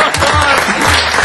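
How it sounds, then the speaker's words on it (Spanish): Dense, steady audience applause with many hands clapping together, loud and close throughout a brief moment. "aplausos de espontáneo"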